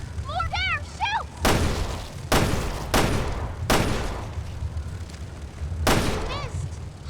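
Gunfire from the survival-horror video game Resident Evil Revelations 2: four loud, sharp shots in an uneven rhythm, with a fifth a couple of seconds later, over a low game soundscape with eerie chirping creature calls.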